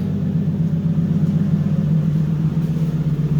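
An 800-horsepower Infiniti G37 with a Tomei exhaust idles nearby with a steady, loud, low humming rumble that never changes.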